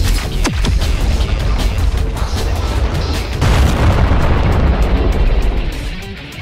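A loud, booming explosion attack in the Roblox fighting game The Strongest Battlegrounds sets off a heavy, sustained rumble with bursts and crackles. It swells again midway, then tails off.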